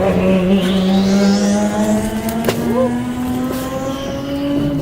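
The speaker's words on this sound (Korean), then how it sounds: "왼쪽에 지나가는 차가 또 한번 갑니다" A race car on the circuit at the 2013 Korea Speed Festival drones past with a rising engine tone, loud and steady, then tapering slightly, with other engine noise behind it.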